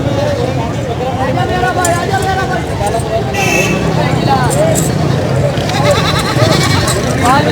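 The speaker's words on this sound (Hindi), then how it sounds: "ये भी बकरी है, इसका भी बच्चा है। एक सारी दूध वाली बकरी है।" Goats at a crowded goat market bleat over and over, loud and close, through a steady hubbub of voices and people talking nearby.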